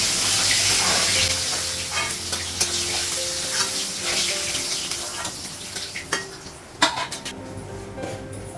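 Fish frying in oil in a pan on a gas stove, a steady dense sizzle running throughout with occasional utensil clinks and scrapes, close and fairly loud, no talking.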